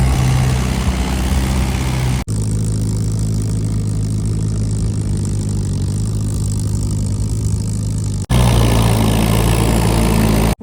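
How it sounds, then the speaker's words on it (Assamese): Two tractors ploughing a village field give a loud, steady engine drone that runs unbroken, with brief abrupt cuts near the start and toward the end and no voices. "দুখন ট্ৰেক্টৰ পূৰা হাল বাই আছে"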